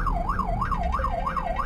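An ambulance rushing a patient to hospital through congested traffic sounds its siren in a rapid, continuous rising-and-falling wail, loud and close, with road noise underneath.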